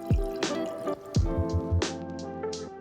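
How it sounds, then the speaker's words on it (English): Cold brew coffee poured over ice in a glass, with a few distinct liquid splashes and drips and ice shifting, close and quiet with no voices. "just pour it out over ice"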